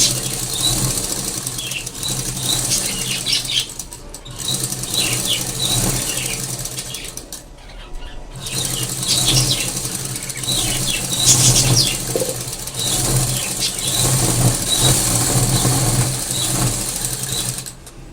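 A sewing machine runs steadily as it stitches a blouse lining to the main fabric, a continuous whirring mechanical chatter. One short pause comes midway before the stitching resumes.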